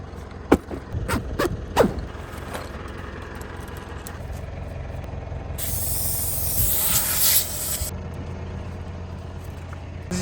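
Onboard air compressor on a camping vehicle near the Roper River inflating all four car tyres at once through open valves: a few clicks and clunks, then a steady rushing hiss of air that swells for a couple of seconds before cutting off.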